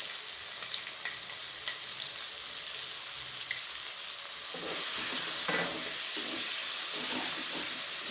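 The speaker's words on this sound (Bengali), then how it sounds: "দিয়ে আমি বেশ ভালোভাবে কষিয়ে নেবো যতক্ষণ না কাঁচা ভাবটা চলে যেয়ে একটা সুন্দর গন্ধ ছাড়ে, ততক্ষণ আমি ভেজে নেব।" A ground spice paste of chillies, ginger, cumin, coriander and peppercorns fries in a pan for a small-potato curry, giving a steady soft sizzle with occasional stirring scrapes and clicks.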